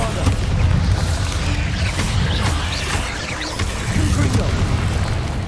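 Deep booming blast from the Bombarda spell in Hogwarts Legacy, a loud low rumble sustained across the stretch amid other battle noise and overlapping game sounds.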